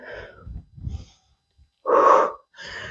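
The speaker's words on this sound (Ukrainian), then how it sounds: "Вдих і видих" A person breathes in and out audibly during a home cardio workout, giving a couple of breathy inhales and a stronger, louder exhale, close and alone without talk.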